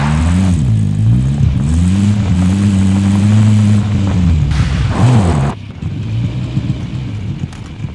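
A car engine drives and revs in the Warzone video game, a loud close rumble with rising and falling pitch for several seconds before dropping to a lower idle.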